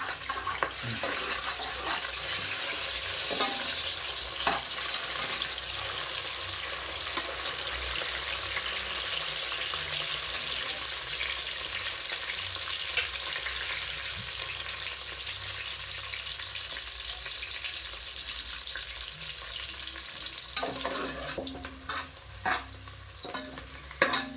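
Curry leaves roasting and being stirred in a hot pan, a steady close sizzle and fry with scraping stir strokes running throughout, a few louder clatters near the end.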